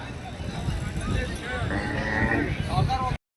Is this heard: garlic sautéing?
no